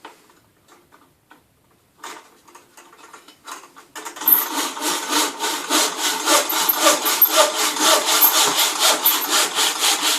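A mitre saw cuts through wood, starting after a few faint taps and handling sounds with a steady, rhythmic rasping that runs loud and close to the end.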